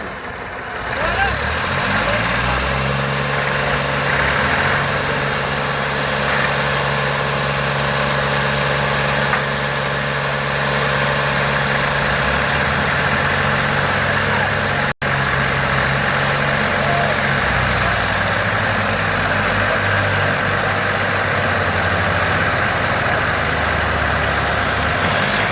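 A Massey Ferguson 375 tractor hitched to a sugarcane trolley idles nearby, its steady low diesel rumble and vibration continuing unchanged throughout, with faint voices in the background.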